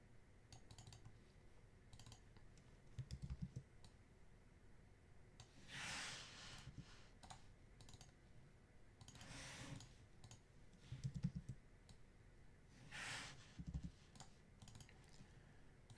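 Computer keyboard arrow keys and mouse clicks tapped in scattered bursts, quiet and close, with occasional soft rustling between presses and no talking.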